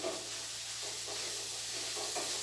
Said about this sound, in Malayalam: കുരുമുളക് ഒരു അര ടീസ്പൂണ് നന്നായിട്ടൊന്ന് ഇളക്കി കൊടുക്കണം